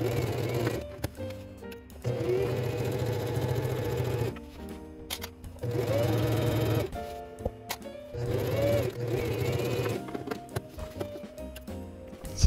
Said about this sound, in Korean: 뒷판 원단의 겉면과 앞판 원단의 겉면이 맞닿도록 놓은 뒤 양쪽 어깨를 1cm 시접으로 재봉해주세요.